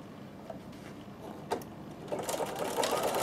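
A Bernina sewing machine stitches along the edge of a postcard, its steady motor hum running continuously with louder stitching bursts toward the end, close and alone with no talk.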